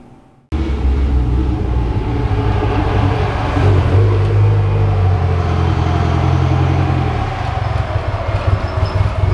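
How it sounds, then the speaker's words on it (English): Toyota MR2 SW20 rolling slowly into a garage, a low steady engine rumble that starts abruptly and holds close and even before easing off near the end, with no talking. "Gonna go ahead and pull the car inside so we can get it underneath the light"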